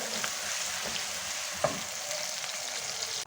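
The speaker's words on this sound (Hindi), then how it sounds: "प्याजों को हल्का ब्राउन करेंगे।" Onions sizzle steadily in a hot pan, with a few faint stirring scrapes and one brief knock.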